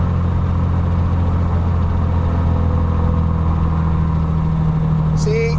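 A light aircraft piston engine runs at a steady, loud drone up close while RPM is reduced during an ignition check, with a brief higher-pitched tone near the end.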